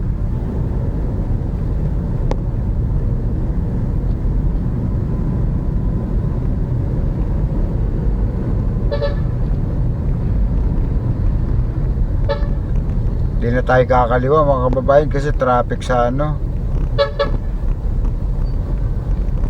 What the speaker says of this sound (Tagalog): pansinin nyo busina ng busina yung kulukoy na bus kasi gusto niya mag swerve